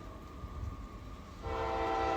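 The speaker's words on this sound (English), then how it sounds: "I'm not sure what train this is, but it's an auto rack" A CSX auto rack freight train rolls past on a rainy day, a steady rumble that swells suddenly near the end as the horn blasts loud and sustained, with no talking.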